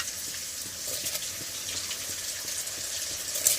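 Boiling water poured over soaked rice for chicken biryani, a steady broadband gush with faint sizzle-like hiss, fairly close and continuous, with no talk.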